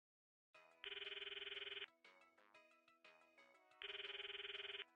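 A cell phone ringtone from the video game Steins;Gate plays a bright electronic melody: a sustained buzzing ring, a run of tonal notes, then the buzzing ring again, clear and alone.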